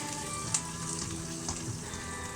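Onions, garlic and ginger fry in a pan as a steady, dense sizzle with a few small pops and spits, close and continuous, with no talking.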